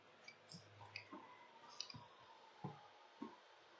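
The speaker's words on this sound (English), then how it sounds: "I better grab my mouse so I can do my little random clicky thing." A computer mouse clicks several times at irregular intervals, each click sharp and distinct, fairly close against a quiet room background.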